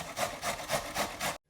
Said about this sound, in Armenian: Գազարը անցկացնում ենք քերիչով։